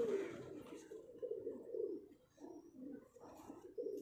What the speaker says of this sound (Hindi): ये खुद गोल्डन कबूतर है, मियाँ साहब वाला